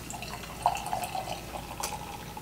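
Hazy Henhouse Frozen Envelope IPA trickles into a stemmed tulip glass, a faint, steady liquid pour with soft dripping and splashing, close by and without talk.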